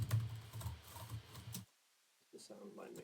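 Rapid clicking of keys on a computer keyboard, close and quiet, with a brief pause before the typing resumes.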